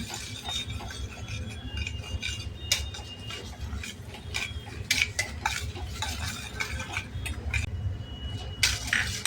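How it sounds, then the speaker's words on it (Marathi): Urad dal and chana dal stir-fried in a pan while making restaurant-style vegetable upma, with steady scraping and clinking of a spoon against the pan over a low sizzle, close and continuous. "उडदाची डाळ, आणि चण्याची डाळ पण परतून घेऊ."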